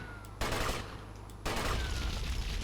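Gunfire in GTA Vice City Definitive Edition: dense bursts of shots across the clip, loud and close, with sustained rattling after a brief lull, over a steady game background.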